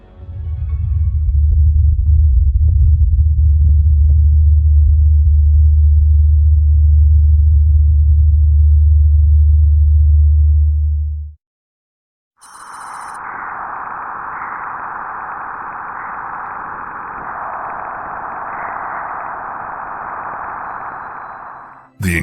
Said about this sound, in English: The incredibly eerie sound you just heard was the Juno spacecraft entering Jupiter's magnetosphere